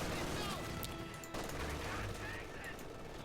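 Mortar fire and battle noise from a Company of Heroes 2 match between Ostheer and Soviet forces, a dense rumble of distant blasts and gunfire with one sharp impact near the middle, steady throughout.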